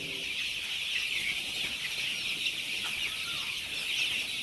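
Desi chickens in a poultry compartment built for about 1600 to 1700 birds make a dense, continuous wash of clucking, a crowded flock heard at a steady level with no voices.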